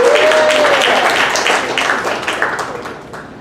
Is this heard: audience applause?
yes